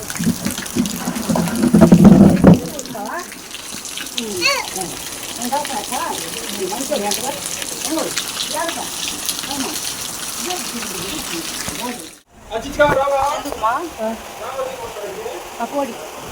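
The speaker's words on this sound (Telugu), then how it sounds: "వర్షం పడుతుంది" Rain pours steadily in a village setting, a continuous watery rush with a louder gushing burst early on, while people talk over it throughout.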